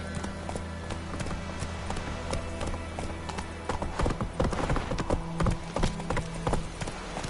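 Roach the horse in a video game trotting and then galloping, hooves clip-clopping in a quick steady rhythm that grows louder and busier midway, with faint background music.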